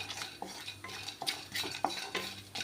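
Whole spices and broken nutmeg dry roast in an oil-free pan, with quiet, rapid scraping and rattling strokes of a spoon against the metal in an uneven rhythm.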